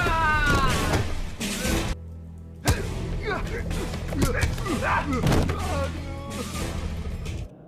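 Loud thuds and crashing impacts punctuate a fight in the 2011 Indonesian film Tarung, with shouting voices and tense music underneath throughout.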